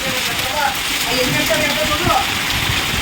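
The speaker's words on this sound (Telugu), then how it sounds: "వర్షం మామూలుగా పడట్లేదు" Steady, dense rain pours down at night, a continuous broadband hiss with faint voices and scattered noises underneath.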